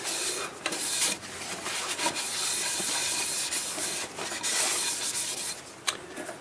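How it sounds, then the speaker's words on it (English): Cloth rubs over a sanded, wood-turned segmented piece in steady, breathy wiping strokes, a soft continuous scrubbing hiss with a few small knocks, close and moderately loud. "I'll wipe that off."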